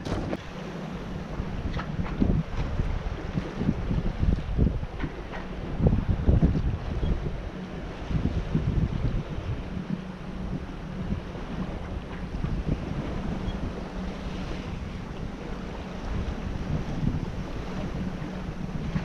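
Steady wind buffets the microphone for the whole stretch aboard a sailboat off Tananger, Norway, with the wash of water and boat motion underneath and gusts swelling now and then.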